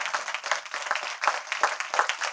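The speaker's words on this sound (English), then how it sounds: "I need to see everybody clapping here" An audience at a poetry performance claps and applauds, a fairly close patter of many hands with uneven, pulsing bursts of clapping.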